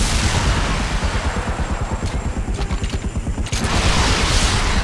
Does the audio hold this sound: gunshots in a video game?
yes